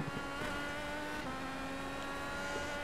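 An IndyCar race car engine runs flat out at full throttle in a racing game on the Belle Isle circuit, a steady, loud, high-pitched drone that holds through the whole stretch.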